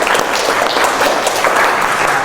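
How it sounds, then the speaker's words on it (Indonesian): Loud, dense applause from an audience at a teaching performance event, steady clapping filling the whole moment without pause. "Bisa kasih tepuk tangan."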